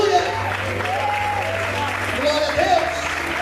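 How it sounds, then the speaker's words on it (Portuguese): A church congregation applauds in a continuous wash of clapping, with voices calling out over it throughout. "Você pode aplaudir o Senhor por isso"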